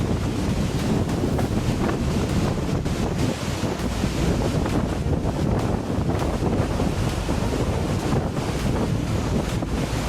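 Hebri waterfall running full in monsoon flow, a loud, steady, unbroken roar of rushing water with wind buffeting the microphone throughout and no voices.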